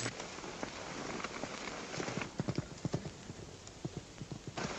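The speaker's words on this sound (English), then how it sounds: "That's my horse, Art." Horse hooves clip-clop in a steady uneven rhythm in a 1937 Western film, growing louder partway through, over a constant hiss like rain.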